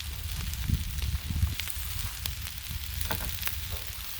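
Collard greens and mushrooms sizzle on a Blackstone griddle, a low crackling fry broken by scraping stirs and small clatters of a spatula, close and moderately loud.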